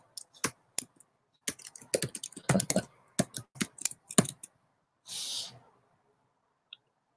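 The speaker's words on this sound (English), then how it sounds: "Let me just type it in real quick." Someone typing quickly on a computer keyboard, bursts of crisp close key clicks with short pauses, followed by a brief soft rustle and one last faint click.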